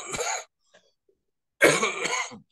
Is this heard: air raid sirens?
no